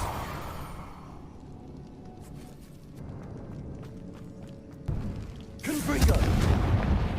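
A Confringo fire spell explosion in the video game Hogwarts Legacy, a low rumbling build followed by a loud booming burst that swells near the end, over game ambience.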